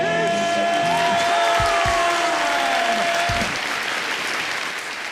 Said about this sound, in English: Man, that clap is loud.